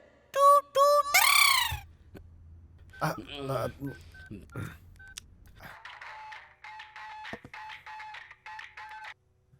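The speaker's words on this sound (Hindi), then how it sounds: "बार बार डायल करके क्यों परेशान कर रहे हो?" A series of short electronic telephone keypad beeps, evenly paced, follows loud tones and talk early on; the dialing tones are clear and moderately loud.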